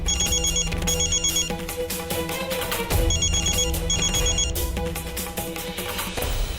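A phone ringtone plays loudly in repeated electronic bursts over music-like tones, ringing in two pairs before fading out.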